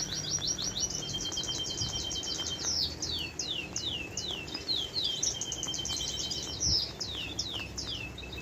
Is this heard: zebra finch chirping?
yes